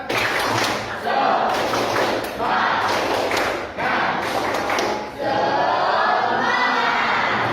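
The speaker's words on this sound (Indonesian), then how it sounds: "Tepuk semangat." A ninth-grade classroom claps in a patterned rhythmic spirit routine with bursts of voices chanting along, the claps grouped in short energetic phrases separated by brief pauses.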